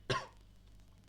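A single short cough from a man, one sharp burst near the start followed by quiet room tone.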